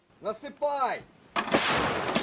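Artillery fire on the front lines in Ukraine's Donetsk region, a heavy blast bursting out after a brief voice and rolling on as a loud, sustained boom.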